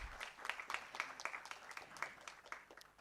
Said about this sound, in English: Now let's give a huge round of applause to him,